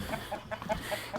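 A multicolored rooster clucks in a quick series of short, soft calls, fairly close, with no other sounds over them.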